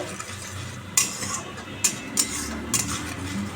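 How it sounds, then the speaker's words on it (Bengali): Fish curry with black cumin sautéing in a pan while a spatula stirs it, with sharp metallic clinks against the pan over a low, continuous sizzle. "একটু সাতলাই এটা ভালো করে কষাতে হবে কষিয়ে তারপরে জল দেবো"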